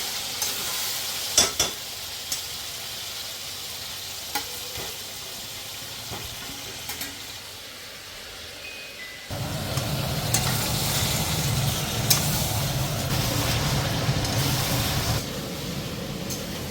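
Potatoes tipped into hot spiced oil with chilies and turmeric, a low sizzle that swells into a loud, steady frying hiss halfway through, with a few scrapes and clinks, close and alone.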